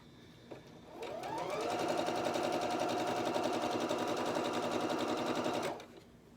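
A sewing machine runs steadily for about five seconds, stitching quilt pieces for a block-of-the-month quilt with a quarter-inch presser foot, its rapid needle rhythm close and even, starting and stopping cleanly with no talk.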